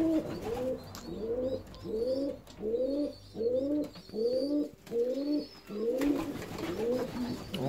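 Indian fantail pigeons coo in a steady, repeating rhythm of rolling two-part calls, close by near a drinker, with faint chirps from other birds in the background and no talk.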